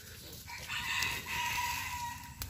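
Chickens and a rooster at a poultry farm, the rooster crowing loudly and close, with clucking and farmyard noise underneath for a couple of seconds.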